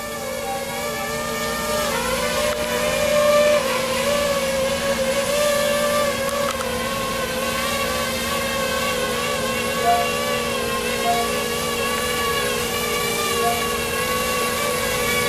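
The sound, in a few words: Azure SQL drone flying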